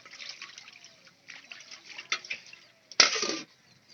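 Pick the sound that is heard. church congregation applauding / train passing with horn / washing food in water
washing food in water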